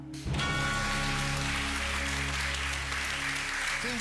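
Studio audience on a Polish TV game show bursts into sustained applause after a brief quiet start, a dense steady roar of clapping held at even loudness to the end, with low musical tones running underneath.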